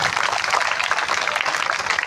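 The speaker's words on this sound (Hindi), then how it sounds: "तालियों से स्वागत कीजिए भाई साहब का।" A crowd at a religious discourse and tableau gathering at a Vishwakarma temple claps steadily to welcome a guest, a dense, continuous patter of many hands heard fairly close and loud throughout.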